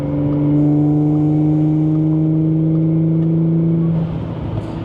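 A 2016 Audi S5 B8.5 with 100k miles and one faulty injector accelerating hard from inside the cabin, a loud steady engine drone with a strong low hum that holds for about four seconds, then eases off.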